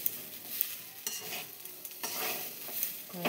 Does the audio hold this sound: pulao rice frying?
yes